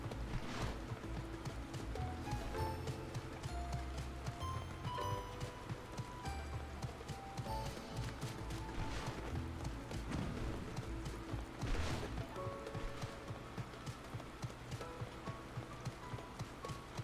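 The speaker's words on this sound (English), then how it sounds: "That's fine. I like the sound of rain." Steady rain falls in Final Fantasy XIV Dawntrail, a constant soft patter that runs through the whole stretch and mixes with game music and occasional light footfalls.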